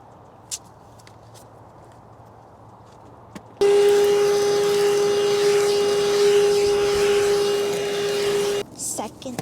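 Quiet room with a few taps, then a vacuum cleaner roars on loudly with a steady high whine for several seconds before cutting off, while cleaning a car's floor mats.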